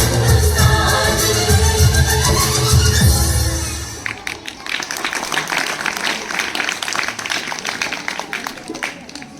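Audience applause at a government school Republic Day program, loud dense clapping with crowd noise for the first four seconds, then thinning into scattered claps under murmuring.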